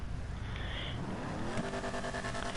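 General Lee car in a video game, its engine revving and roaring up through a rising pitch sweep, with a short tire squeal, loud and close.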